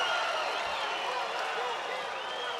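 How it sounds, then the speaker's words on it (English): A crowd at a mixed martial arts fight in Fresno roars and applauds in a steady, dense ovation after a rear naked choke submission, the noise sustained and fairly loud throughout. "with a huge ovation"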